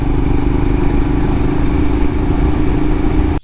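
A Royal Enfield Himalayan motorcycle engine drones steadily and loudly while riding through a corner, a continuous mid-pitched throb with clattery texture that cuts off abruptly at the end.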